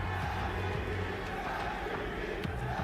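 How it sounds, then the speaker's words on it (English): A large crowd at a Valorant esports tournament final chants steadily, a dense roar heard somewhat distant beneath someone speaking. "the crowd are chanting 3 letters"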